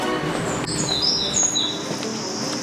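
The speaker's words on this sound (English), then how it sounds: "it's very peaceful with the birds singing" Birds sing in a quiet spot in the middle of the city of York, England, near Clifford's Tower and weeping willows: bright chirps and whistled notes repeat steadily over a soft, constant background hush.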